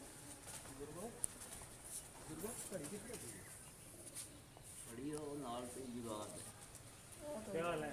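Soft pigeon coos repeat in short rolling bursts as a pigeon lands on a rooftop, with someone talking over them and light background noise.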